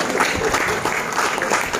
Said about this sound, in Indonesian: Tepuk tangan buat Pak Sinda.